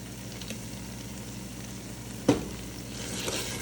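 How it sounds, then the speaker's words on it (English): Tomato paste sizzles in a hot pan over a steady low frying hiss, with one sharp clatter partway through as it lands and a slightly busier sizzle near the end. "I'm gonna add my tomato paste in."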